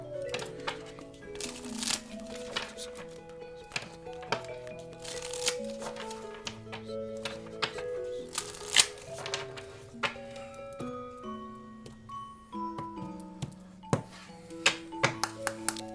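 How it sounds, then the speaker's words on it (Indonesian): Oracle cards are shuffled by hand close to the microphone in a steady run of crisp riffling, flicking and tapping, with a soft tonal background sound beneath. "Ayo kita lihat dulu guys kartu oracle-nya seperti apa."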